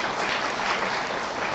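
Audience applause at a forum talk concert on narrative-based curriculum redesign, a dense, steady wash of clapping from many hands, fairly close and sustained throughout with no voices over it.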